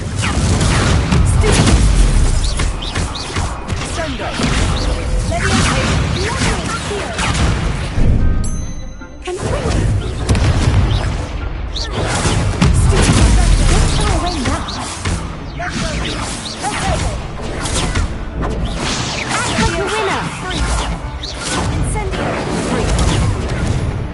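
Confringo fire spell explosions in Hogwarts Legacy on PS5 boom and crash in a loud, dense barrage of repeated blasts lasting the whole stretch. A voice is heard over the din.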